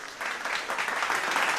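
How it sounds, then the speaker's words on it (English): At an evening award ceremony and inauguration, a gathered audience breaks into applause that swells within the first moment and then holds a busy, steady clatter of many hands. "can we just congratulate her with a round of applause?"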